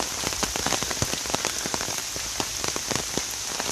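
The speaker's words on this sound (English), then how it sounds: "In the rain, under a brolly, nice and dry" Rain patters steadily on an umbrella held by someone walking near the Three Sisters lake and wood by Ashton and Bryn, a dense close drumming of countless small drops with no voices.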